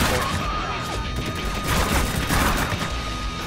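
Dense gunfire and explosions in Spec Ops: The Line, a co-op match on Suicide Mission, form a loud, continuous battle roar with sharp bursts and booms layered throughout.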